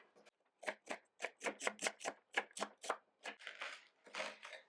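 Knife slicing leek, Swiss chard and leftover roast vegetables on a board, a quick series of crisp, close chops in an uneven rhythm, fairly quiet and with no talk.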